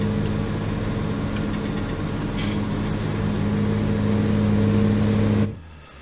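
A vehicle in Farming Simulator 19 drives off with a steady, loud low engine hum and a tonal whine that holds for several seconds and then cuts off abruptly near the end.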